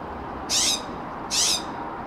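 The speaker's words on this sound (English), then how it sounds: "this bird is like talking to me" A bird calls twice in short, breathy, hissing bursts about a second apart, standing out over steady background noise.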